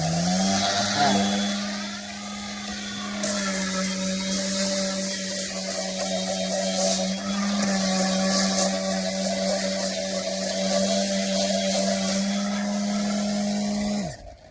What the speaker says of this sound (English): DCW210 random orbit palm sander. You can go pretty slow.